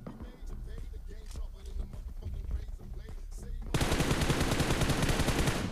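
Enemy gunfire in the battle royale mobile game BGMI, with rapid automatic bursts that build into a dense, continuous, loud barrage of overlapping shots in the second half.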